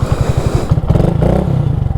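Large Honda enduro motorcycle engine running close by, a loud, low, rapid chugging pulse that thickens briefly as the throttle rises, with some mechanical clatter on top.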